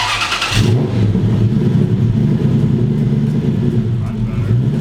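A supercharged 1UZ engine in a drift truck runs loud and close, with a deep steady rumble after a brief higher burst at the start, and voices faintly underneath.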